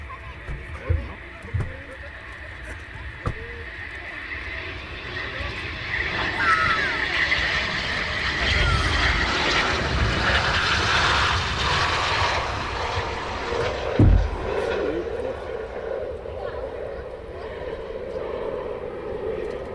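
A Typhoon Eurofighter jet landing at RAF Coningsby at night, its engine roar swelling loud and broad in the middle and then fading, heard from a distance with someone talking over it.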